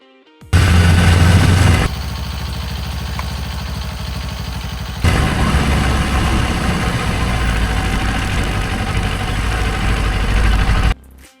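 A motorcycle engine with a manual clutch runs loud and close, a steady idle that shifts to a different tone partway through as the bike moves off, then cuts to quiet at the end.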